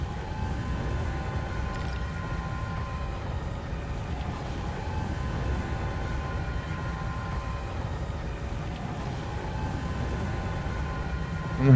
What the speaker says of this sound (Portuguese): Trem.